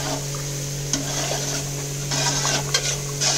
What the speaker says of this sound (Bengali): এবার আমি চালটা দিয়ে দেবো, দিয়ে ভাতটা নেড়ে দেবো